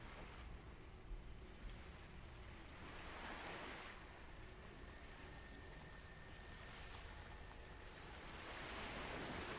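Ocean waves wash steadily onto a shore in a zombie video game, a continuous broad surf roar with gusts of wind, no talking over it.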